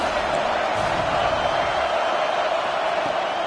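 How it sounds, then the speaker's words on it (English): Steady, dense crowd roar at an American football game, loud and continuous throughout with no distinct breaks, as fans rise up to back their defense. "This crowd rising up, sensing that its defense needs some help."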